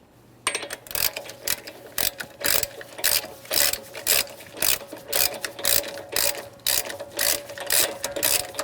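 Rapid rhythmic ratchet clicks from a hand ratchet tightening strut nuts on a 2011-2021 Jeep Grand Cherokee front air shock, in repeated close bursts with short pauses, alone without talk.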